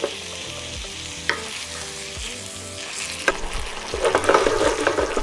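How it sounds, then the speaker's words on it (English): Pasta and tomato sauce being stirred in a tiny pan over heat, steady sizzling and frying with scraping stir strokes and sharp clinks, growing busier toward the end. "now I'm gonna add in the pasta, tomato sauce"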